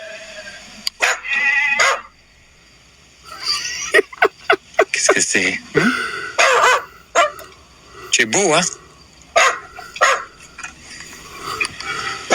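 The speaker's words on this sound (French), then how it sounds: "Il aboie" A dog barks and yips in short, irregular bursts nearby, while a person speaks between the barks.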